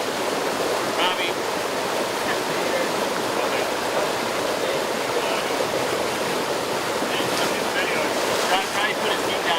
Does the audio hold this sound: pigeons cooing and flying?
no